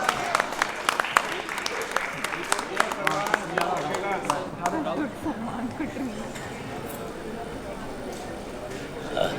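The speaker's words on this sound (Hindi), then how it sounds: "एक welcome toast के लिए जोरदार तालियां हो जाए" Loud applause from a wedding crowd for the bride's parents' welcome toast, a dense wash of clapping with a few sharper claps early on, fading into steady background chatter.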